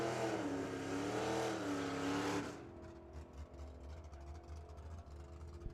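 A Mopar drag racing car roars loudly down the strip at a drag racing raceway with a high-revving engine, then the sound drops abruptly to a low rumble with scattered crowd noise.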